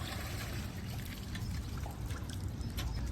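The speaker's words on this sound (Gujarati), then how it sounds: "જો અર્જુનભાઈ પાણી કાઢ્યું." Water drawn from a bathing well in Rajasthan is poured out in a soft, continuous splashing trickle, faint and close, with no voices.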